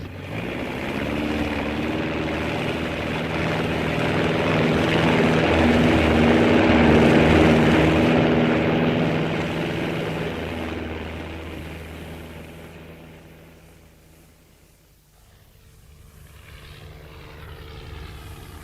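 Propeller airplane engine from a radio theatre sound effect, a steady droning roar that swells louder toward the middle, then fades away and picks up again near the end, with no voices over it.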